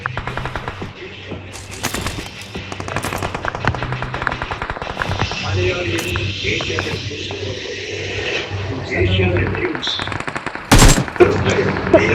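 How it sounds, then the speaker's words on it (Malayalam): Loud, close gunfire crackles almost continuously in rapid bursts of shots, with a few heavier blasts near the end and a busy, noisy background. "വെറുതെ വെടിവെച്ചതാ."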